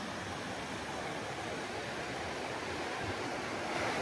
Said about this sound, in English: I love camping where I can hear water running all night